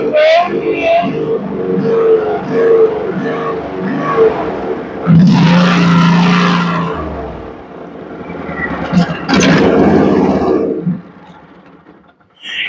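A John Deere 420 tractor fitted with a Honda repower engine runs close by, its engine swelling in a few loud revving bursts between idling stretches, with some talking heard over it.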